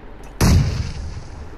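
A grenade explodes in a shooter video game, one sharp loud blast with a booming low tail that rings out and decays over about a second.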